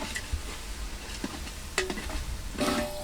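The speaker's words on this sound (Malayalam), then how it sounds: "അപ്പോൾ നമ്മുടെ സ്പൈസസ് ഈ എണ്ണയ്ക്കകത്ത് നെയ്ക്കകത്ത് ഒന്ന് മൂപ്പിച്ചെടുക്കാം നമുക്ക്." Whole spices such as cardamom and cinnamon frying in oil and ghee, a soft continuous sizzle with a few brief metallic clinks and scrapes of stirring, close and with no talk.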